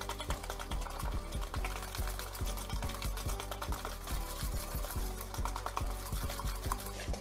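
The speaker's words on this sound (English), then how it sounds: "You just mix it all up until they combine." Broccoli cornbread cake batter, bright green and moist, stirred in a bowl, with a steady run of close, rapid scraping and tapping strokes of the utensil against the bowl, continuous for several seconds with no talking.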